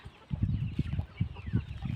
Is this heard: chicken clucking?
yes